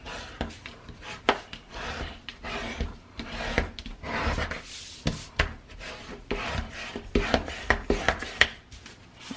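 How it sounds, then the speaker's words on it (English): A folded paper album page being burnished flat, steady close rubbing and rasping strokes in an uneven back-and-forth rhythm, dry and scratchy, with no voices. "And then I'm going to burnish it down."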